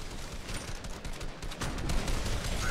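Rapid gunfire from the Fortnite zombie mode, a dense, steady stream of shots and crackling impacts sustained throughout at moderate loudness with no talking.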